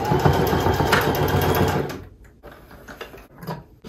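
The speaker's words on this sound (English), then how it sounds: "So now I'm going to go to my sewing machine, and I'm going to do a stitch up and down this way" Sewing machine stitching up and down across a clothing waistband during a thrifted outfit alteration, a dense rapid mechanical whir for about two seconds, then stopping into quieter handling clicks and faint rustle.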